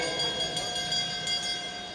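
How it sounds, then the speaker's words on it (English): At a junior cycling track race, a bell rings out to mark the start of the points laps, a fast, steady run of ringing strikes over a constant metallic hum. "The bell"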